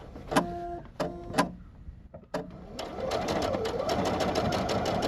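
A Bernette b70 Deco sewing machine stitching over folded fabric, first a few short separated whirring bursts, then a continuous fast run of rhythmic needle strokes, close and clear.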